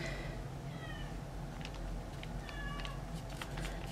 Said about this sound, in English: I have to let the cat in before he drives me insane